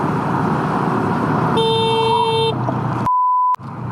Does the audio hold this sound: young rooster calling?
no